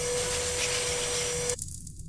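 A vacuum cleaner in a horror video game drones as a steady, moderately loud whir with a high whine, then cuts off abruptly partway through, leaving faint room noise.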